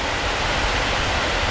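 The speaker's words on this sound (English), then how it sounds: "But the water's flowing here" Water pours over a dam on the Raquette River in icy winter conditions, a dense steady broadband rush that holds constant and close with no breaks.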